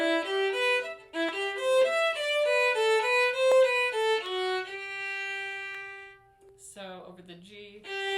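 Fiddle playing a Blackberry Blossom arpeggio lick over chord changes, a quick run of clear, close bowed notes rising and falling, then a long held note and a brief scratchy phrase at the end.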